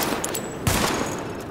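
Rapid automatic gunfire rattles continuously during a weapon test in The Division video game, a dense close burst of shots lasting the whole moment.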